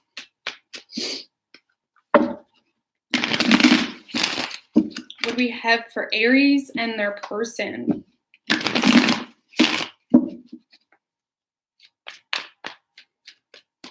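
Rapid papery riffling of cards being shuffled in several bursts, close up, with a person talking in between.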